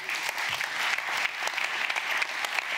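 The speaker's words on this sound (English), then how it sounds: "You can give him a round of applause." Sustained applause from an audience, many hands clapping steadily throughout at a lively, even level.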